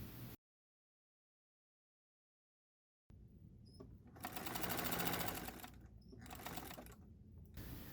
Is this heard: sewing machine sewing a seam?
yes